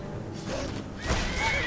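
A horse whinnies in the game Skyrim, a short high rising-and-falling neigh about a second in, close and fairly loud over a muffled rumbling background with no speech.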